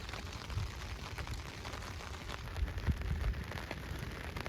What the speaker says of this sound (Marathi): दिसतंय का पाऊस तुम्हाला?